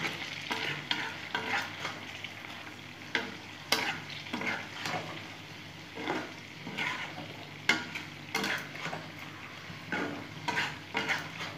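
Sweet, sour and spicy mango pickle is stirred in a pan with roasted ground spices: a steady soft sizzle with repeated scraping strokes and occasional spoon clinks against the metal, alone with no talk.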